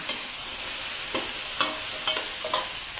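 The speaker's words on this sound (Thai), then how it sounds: "เมื่อผัดผักโดนน้ำมันแบบนี้แล้วค่ะ" Mixed vegetables stir-fried in hot oil in a pan make a constant loud sizzle, with several sharp scraping strokes of the spatula standing out at irregular moments.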